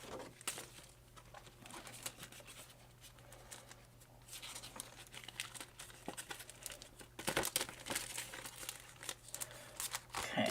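Aluminium foil being crinkled and pressed over pattern paper, faint irregular rustling and crackling with a few sharper crumples, close and quiet against a low steady hum.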